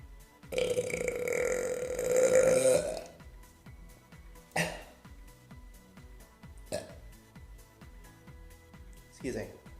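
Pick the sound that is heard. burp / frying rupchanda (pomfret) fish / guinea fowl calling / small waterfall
burp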